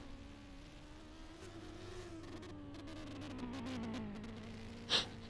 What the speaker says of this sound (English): That car sounds like it's misfiring